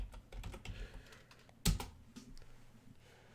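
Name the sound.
typing on a computer keyboard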